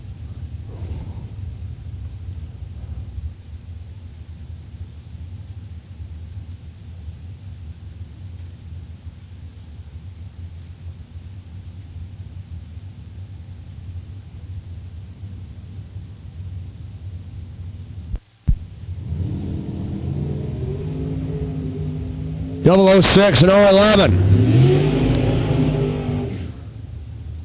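Super Pro drag race cars launch down the strip at a Sunday race: a long steady low rumble at idle gives way to a loud broadband roar, then a sharp rising engine whine near the end.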